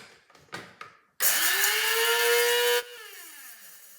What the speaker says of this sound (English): Ask for cumin seed, but I'm going to grind it.